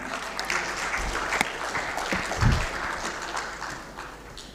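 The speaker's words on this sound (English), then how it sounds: "Let's have a huge round of applause for her." A crowd applauds at an aerospace and defence festival in India, loud sustained clapping with a couple of low thumps partway through, fading slightly toward the end.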